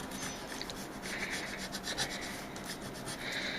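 Sandpaper rubbing back and forth over the frets of a Warmoth guitar neck during fret leveling and crowning, a steady close raspy scraping in quick repeated strokes with no talking.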